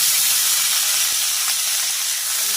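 Garlic, pointed gourd peels and green chillies sizzle in hot oil, a loud continuous hiss with faint stirring clicks, close and steady throughout with no speech.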